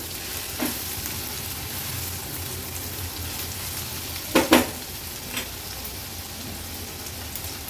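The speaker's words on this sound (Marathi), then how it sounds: "कांदा व्यवस्थित तेलात परतून घेते।" Onion sautéing in oil in a pan for a dry Agri-Koli style karandi (dried shrimp) and snake gourd dish, a steady soft sizzle with a few louder stirring scrapes partway through, no talking.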